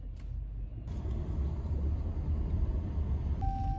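A Jeep drives through heavy rain, its low engine rumble and road noise steady and close inside the cabin, with nobody speaking.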